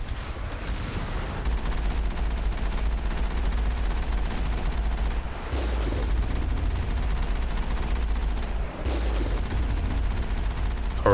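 Sustained turret gunfire in the PC game Mass Effect 1, a dense continuous barrage of loud shots and booms over a steady low rumble, with a few brief heavier bursts.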